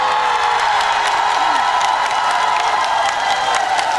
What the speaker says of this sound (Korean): 이분들께 박수 한 번만 부탁드리겠습니다.